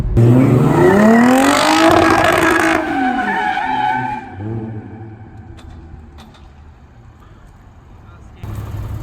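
A Lexus or BMW car roars past at speed with screeching tires, loud at first and then fading, with excited voices over the engine noise.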